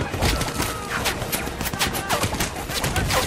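Dense, continuous gunfire from a tank and soldiers in a World War II battle, with rapid overlapping shots and bursts at close range and no pauses.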